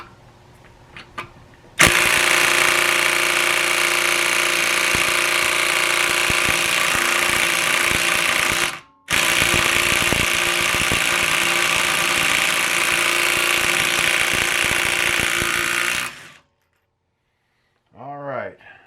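A Bauer 3/8-inch impact wrench hammering on a tightly torqued lug nut in two long, loud, continuous bursts split by a brief pause, followed by a quiet tail.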